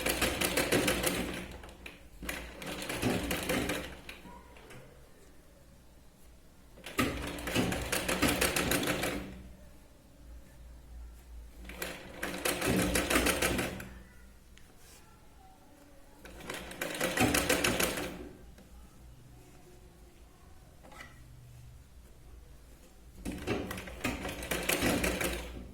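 A sewing machine stitches the sleeve of a Katori blouse, running in several steady bursts of rapid mechanical chatter separated by quieter pauses, close and fairly loud with no talking.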